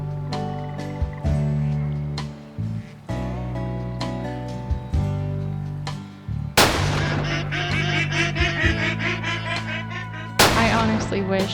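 Gunshots fired at a flying flock of ducks in the hunting video game Way of the Hunter, several loud sharp shots over a continuous layer of duck quacks and honks.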